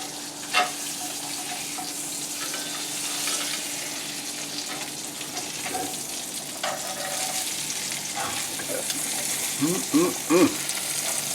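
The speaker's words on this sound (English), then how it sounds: "what I'm going to do here now is turn the fish over" A halibut fillet sizzles steadily in a hot pan, with scraping taps and clatter as it is turned over, a voice speaking briefly near the end.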